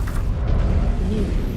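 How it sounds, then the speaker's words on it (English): A missile explodes in the mech combat game Mechwarrior 5: Clans, a deep, sustained rumbling boom that fills the whole moment without a sharp single crack. "Incoming missile"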